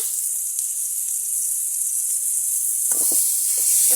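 Oil and chopped onion sizzle steadily in a pan for a fish curry, a constant bright hiss with a few soft clatters near the end and no talking.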